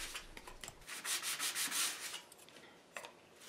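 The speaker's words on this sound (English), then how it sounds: "Then I continue sanding until all the discs have been sanded." Rhythmic hand sanding strokes rasp back and forth on wooden discs, a quick series of close, scratchy rubs followed by a pause and one more stroke.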